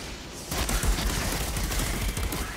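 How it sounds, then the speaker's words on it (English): Enemies fire guns in a video game, with dense, rapid volleys of shots crackling almost continuously and fairly loud over a couple of seconds. "These guys are shooting at you, and those rip bullets are strong."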